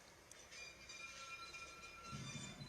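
Electric train rolling slowly in reverse along a railway line, a steady low rumble of wagons on track with faint wheel squeal, continuous and moderately distant, no voices.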